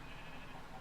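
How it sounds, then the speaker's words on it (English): A single short sheep bleat from the block game Minecraft, modded FTB Infinity Evolved Skyblock, heard alone, quiet and close. "Goddamn sheep"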